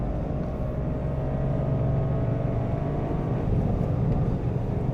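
A Toyota GR Corolla hot hatch engine pulling hard at speed on a race track, a loud, steady, droning roar that holds throughout with no talk.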